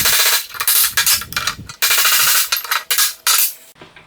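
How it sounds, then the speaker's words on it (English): Hammer blows knocking a stuck bearing race out of a Datsun truck wheel hub, loud sharp metallic strikes in rapid bursts of repeated hits, ringing steel, close and alone. "I have to knock the race out of this hub too"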